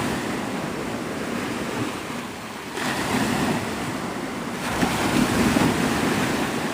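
Ocean surf breaking continuously on Navarre Beach, Florida, a dense steady roar of waves with swells rising and falling, mixed with strong wind buffeting the microphone and no voices.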